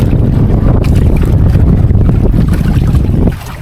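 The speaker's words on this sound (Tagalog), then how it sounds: "medyo mahangin pa ngayon" Steady, heavy northeast monsoon wind at sea during a fishing trip in heavy rain buffets the microphone with a deep, roaring rumble that persists throughout and eases slightly near the end.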